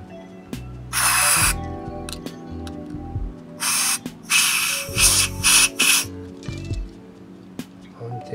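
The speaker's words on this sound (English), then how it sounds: "You spray it again." Short aerosol spray bursts aimed at a part of a Made-in-Japan Fernandes FR-55 guitar, several separate hisses of uneven length, close and fairly loud, with low tonal hum and knocks between them.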